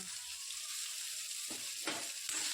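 Sliced bitter gourd sizzles in hot oil in a pan with urad dal, a steady frying hiss broken by short stirring scrapes toward the end, close and fairly quiet.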